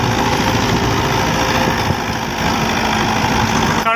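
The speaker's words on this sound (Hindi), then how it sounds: "काफ़ी पुराना वा 84 मॉडल ट्रैक्टर आ" An old 1984 Mahindra 575 single-clutch tractor engine runs steadily at close range, a loud continuous rumble with no talk over it.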